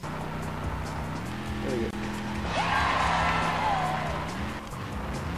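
A monster truck revs in the PC video game Monster Trucks Nitro, its steady engine drone rising in pitch with a brief tire squeal, all under a short bit of talk.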